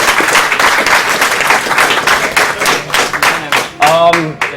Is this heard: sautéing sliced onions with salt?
no